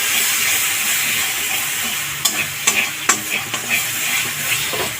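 Spice paste sizzles and fries in oil in a pan, a constant loud hiss broken by a few sharp scraping knocks as it is stirred, with no voices.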